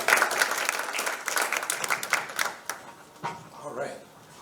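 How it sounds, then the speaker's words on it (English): An audience applauds with dense clapping that gradually thins out and fades over a few seconds, leaving scattered claps and a murmur of voices. "So give a round of applause for Oscar Rivera."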